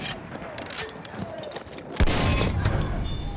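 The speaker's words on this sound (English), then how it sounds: "Machine gun, one of theirs." Enemy machine gun fire in the World War I shooter Battlefield 1, a loud burst of rapid shots kicking in partway through over a steady battlefield din.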